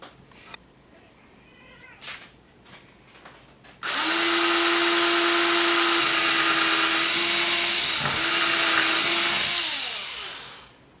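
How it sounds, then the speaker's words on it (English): A few faint clicks, then a power drill drilling into metal whines loudly and steadily for several seconds, its pitch dipping briefly before winding down. "when you're drilling metal, do it slowly, not fast"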